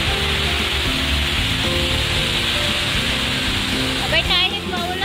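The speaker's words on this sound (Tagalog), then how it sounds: "umuulan kahit ang lakas ng ulan" Heavy rain pours down outside Lucky Plaza in Singapore, a loud, steady wash of hiss that continues without a break throughout, with a low background hum beneath it.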